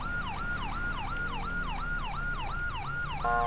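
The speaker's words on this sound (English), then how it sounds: "This is a CHP siren, though." A California Highway Patrol siren from a police car in GTA V with the LSPDFR mod wails in a rapid, regular rise-and-fall cycle, loud and close over the low rumble of an engine, and shifts to a different tone at the end.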